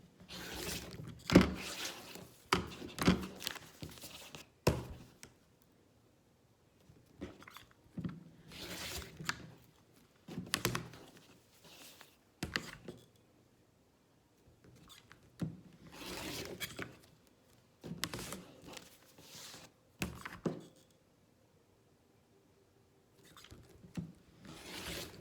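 A rotary cutter drawn along a ruler trims a paper-pieced quilt block, heard as a series of short, close scraping and rasping strokes separated by quiet pauses.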